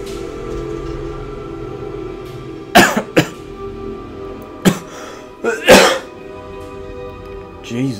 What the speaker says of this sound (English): Thought I'd be coughing this much.